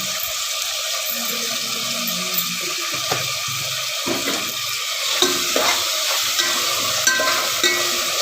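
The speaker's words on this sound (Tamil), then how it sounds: "தக்காளி நல்லா வணங்க கொஞ்சம் உப்பு போட்டுக்கோங்க" Tomatoes sautéing with salt in a pan for tomato rice, a steady close sizzle with soft stirring scrapes and clinks running throughout.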